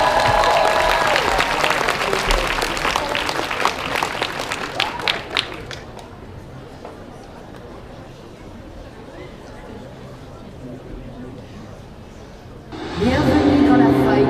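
A cosplay contest audience applauds loudly as a contestant dressed as Soraka takes the stage. The dense clapping lasts about six seconds, then fades to quiet room murmur before a burst of game-style sound returns.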